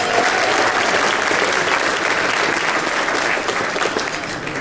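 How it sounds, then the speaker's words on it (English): Sustained, loud applause from an audience at a bar association dinner honoring past presidents, dense clapping holding steady for several seconds before easing slightly at the end. "Let's give them a round of applause."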